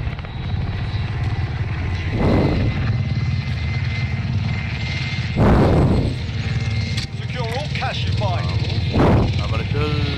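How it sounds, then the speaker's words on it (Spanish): Helicopter in Call of Duty, steady loud rotor and engine drone throughout, with repeated whooshing swells and bursts, voices over the top. "Eso es lo que tú estabas esperando, un helicóptero."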